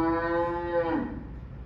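A single drawn-out cow moo in a stage play, loud and close, holding steady before sliding down and trailing off, with no talk over it.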